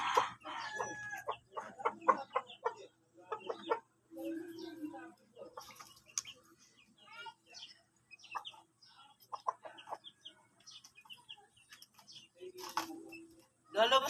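Chicks and chickens clucking and squawking in short, irregular bursts while being handled up close, with a few louder cries and people talking over them.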